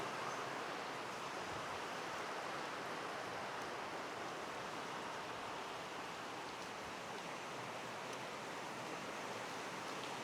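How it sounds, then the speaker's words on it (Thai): Heavy rain and strong wind pound steadily outside a room as water begins to seep in, making a dense, unbroken rushing hiss that stays loud and constant throughout. "ทั้งลมทั้งฝนแรง"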